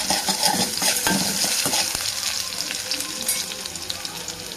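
Vegetables sauté in a pan for rava uttapam, a close sizzle and frying crackle with repeated spoon stirring and scraping against the pan, fairly quiet and alone.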